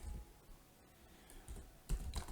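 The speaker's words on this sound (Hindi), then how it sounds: "अब मैं एंटर प्रेस करता हूं" Keys tapped on a computer keyboard during Python string coding, a few quiet clicks and one sharp keystroke near the end, close and isolated.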